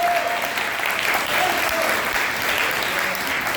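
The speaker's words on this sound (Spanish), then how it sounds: "Vamos a darle un gran aplauso a los hermanos." Steady, full applause from a sizeable church audience, loud and continuous throughout with no breaks.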